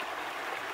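River water flowing steadily in a continuous broadband rush, close and moderately loud with no voices, in a children's story song setting.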